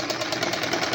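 A sewing machine stitches a fabric strip onto a suit, running at a steady, fast mechanical rhythm that stays close and fairly loud throughout, with no talking.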